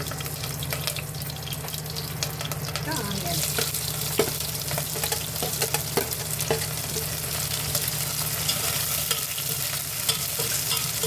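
Fenugreek seeds, cumin and green chilies sizzle steadily in hot oil for a curry, with occasional stirring clinks and scrapes in the pan.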